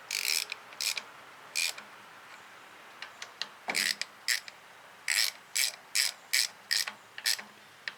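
A ratchet wrench tightens the cylinder head bolts on a TO 30 tractor engine, giving about a dozen short bursts of crisp, close clicking separated by brief pauses.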